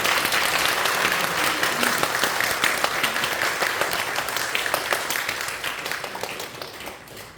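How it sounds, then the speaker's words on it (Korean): A church congregation claps together at an ordination service marking the church's 52nd anniversary. The dense, close applause holds steady for several seconds, then thins and fades toward the end. "박수 하도록 하겠습니다"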